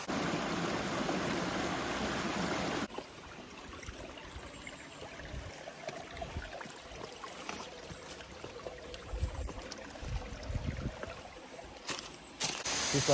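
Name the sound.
waterfall flowing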